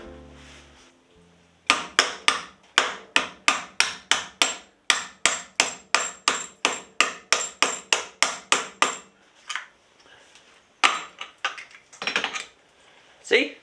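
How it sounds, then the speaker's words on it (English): A hammer knocks at a part on a Yamaha XJR1300 motorcycle, a rapid run of about twenty sharp metallic blows followed by a few scattered strikes and light clatter. "That might even just knock out with a hammer."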